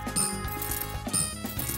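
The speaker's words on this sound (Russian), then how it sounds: "Ух ты, да нам награду дали, еще золотые монетки и кристаллики." Reward gold coins and crystals dropping in a cartoon animal beauty salon game, a bright jingling chime cascade over music, with two louder bursts, no talking.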